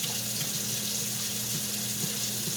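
Water pours steadily into a kitchen sink as boiled spaghetti noodles are drained, a continuous rushing hiss with a low hum underneath, fairly close and with no talking.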